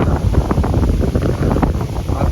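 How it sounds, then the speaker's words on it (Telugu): Strong wind blows at night on the summer hilltop of Horsley Hills, a loud, close, continuous roar of gusts hitting the microphone, with no voices. "గాలి చూడండి మచా ఒకసారి, గాలి సౌండు"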